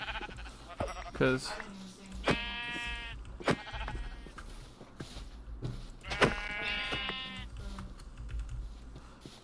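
Sheep in the Minecraft mod Cobblemon bleat twice with nasal, wavering game cries a few seconds apart, while someone talks and keyboard tapping and clicking go on underneath.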